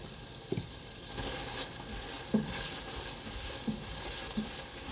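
Kielbasa frying in a soup pot, a soft continuous sizzle with a few light stirring knocks and scrapes at intervals, quiet and close, no talk.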